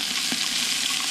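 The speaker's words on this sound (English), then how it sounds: "you're going to brown the rabbit on both sides" Rabbit meat browns in hot olive oil in a pan for soup, giving a steady, close, even sizzle and hiss throughout with no talk.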